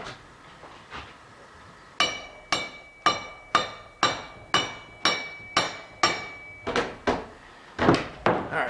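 A small brass hammer taps a hard metal object in a steady series of about a dozen sharp ringing strikes, each with a short bright decay, close and alone.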